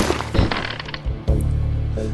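Chair smashed over an enemy's head in the video game XIII, heavy thudding and cracking impacts in a loud burst with a second hard hit partway through, under game noise.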